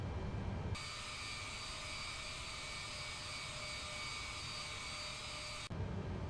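A Boeing 787 beginning to taxi in Microsoft Flight Simulator, its engines a steady, loud, even drone with a high whine that holds unchanged for several seconds before cutting off abruptly.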